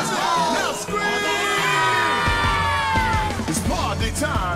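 Crowd screaming and yelling in a rhythm game, PaRappa the Rapper 2, loud and sustained throughout with cheering, whoops and shouts over an energetic backing music track.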